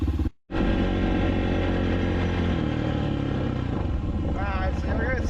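A Suzuki LTR450 quad's engine running steadily and loud, cutting out briefly near the start before resuming a continuous drone with some throttle variation; the quad has a sputtering, won't-go-full-throttle fault.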